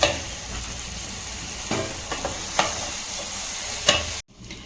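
Mixed fruit jam bubbles and sizzles in a pan while a spoon stirs it, with a steady hiss, a few sharp scraping strokes against the pan, and an abrupt cut near the end.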